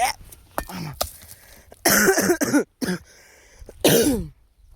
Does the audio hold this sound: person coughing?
yes